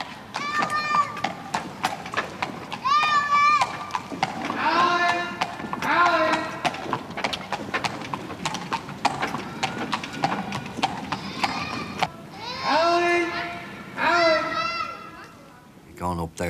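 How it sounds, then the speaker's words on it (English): Workhorses' hooves clip-clop steadily on a Dublin city street, a loud rhythmic clatter heard up close, with a horse whinnying and children's voices and chatter mixed in. "Give way to horse traffic."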